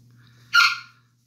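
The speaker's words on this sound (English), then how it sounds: "Sorry about that noise. I have a blue and gold macaw," Blue and gold macaw letting out a single short, harsh squawk, loud and close, against a quiet room with a faint low hum.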